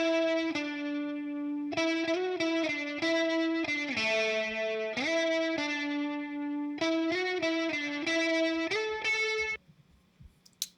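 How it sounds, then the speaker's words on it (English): A processed electric guitar part in a song plays chopped, rhythmic chords with effects and slight distortion, loud and upfront for about nine seconds before cutting off into near silence. "And then I have this guitar in here too."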